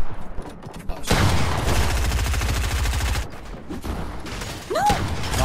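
Rapid automatic SMG fire in Fortnite Mobile, a long loud rattling burst of about two seconds, then scattered shorter bursts and in-game effects.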